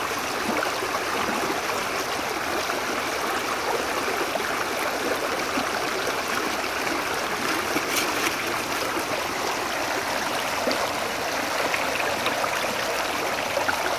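River water rushing steadily through a Keen A52 gold-panning sluice, a constant close, loud wash without pauses or voices.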